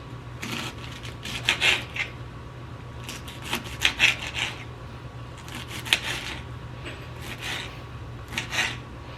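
Knife slicing fresh cabbage into strips for sauerkraut on a cutting board, repeated crisp crunching strokes in short bursts with pauses, close and fairly quiet.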